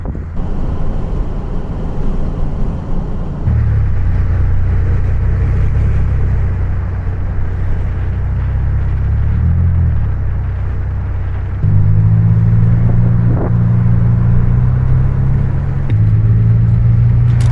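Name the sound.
car driving on road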